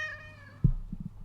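A pet cat near a computer keyboard gives one drawn-out, fairly quiet meow, followed by a soft thump and a few light knocks nearby.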